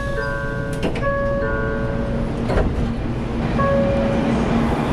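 A JR West Hakata-Minami Line Shinkansen pulls into Hakata Station, heard from inside the car as a steady loud rumble with shifting electric whine tones and a few clunks.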